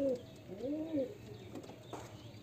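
Two soft, rounded coos from a domestic pigeon in a Murshidabad hobby loft open the moment, then the calling fades into quiet ambient noise with a faint chirp.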